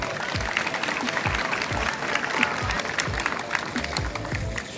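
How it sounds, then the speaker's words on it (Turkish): A festival crowd at the Ardino (Eğridere) Days 2022 event applauds, a dense, sustained wash of clapping from many hands heard at a distance with no pauses. "O yüzden kendinize kocaman bir alkış diliyorum ben."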